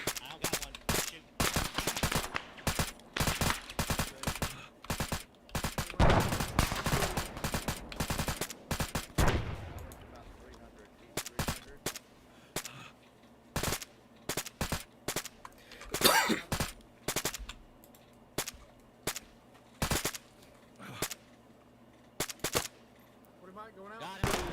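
Gunfire during a milsim operation: rapid bursts of sharp shots, a dense volley in the first ten seconds, then scattered single and double cracks, loud and close, with people talking between shots.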